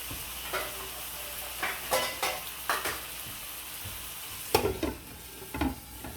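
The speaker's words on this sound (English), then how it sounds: "Getting this chicken brown." Steady sizzling of chicken browning in a frying pan, with occasional scrapes and stirring clatter from a utensil, close by and without talk.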